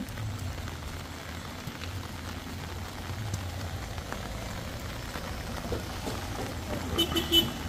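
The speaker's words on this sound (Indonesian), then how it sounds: "Hujan ya?" Rain falls steadily at a construction site, a soft continuous patter with faint low machinery rumble underneath and a few sharper knocks near the end.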